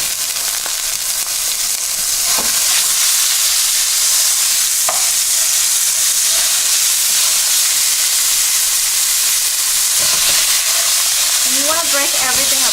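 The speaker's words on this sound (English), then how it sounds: "I'm going to add in some oil. And I'm going to add in my other pound of ground beef here." Ground beef and oil frying in a hot pan, a steady loud sizzle with occasional stirring scrapes and a few brief tonal clinks near the end.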